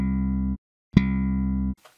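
Slap bass run through a compressor with a 20 ms attack: a sustained low note, a gap, then a sharp percussive slap that rings on, heard clearly and alone with no talking.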